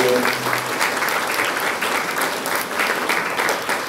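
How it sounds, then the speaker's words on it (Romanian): Clapping from a crowd at a Christmas show in Dărmănești, a busy crackle of many hands that stays steady throughout, with a voice briefly audible at the very start. "haideți să-i aplaudăm"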